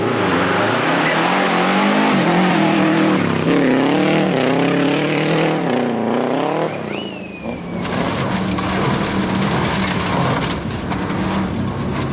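A rally car engine revs hard and climbs in pitch during the 2022 Rallye Perce Neige in Quebec, followed by a brief tire squeal and continued loud roaring, gritty engine noise throughout.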